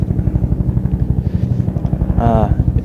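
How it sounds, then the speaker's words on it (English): A helicopter's rapid rhythmic blade thumping, loud and close, pulsing steadily throughout while a voice talks over it. "I guess you can hear that helicopter now."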